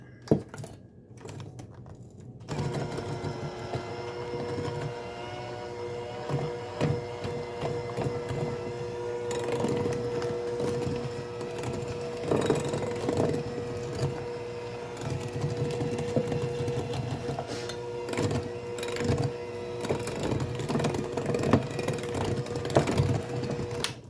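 Dry ingredients being mixed into ginger molasses cookie dough, likely by an electric mixer, giving a steady close mechanical whir with irregular clattering bursts throughout, and no talking.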